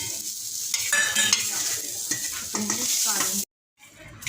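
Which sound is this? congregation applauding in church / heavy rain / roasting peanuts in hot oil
roasting peanuts in hot oil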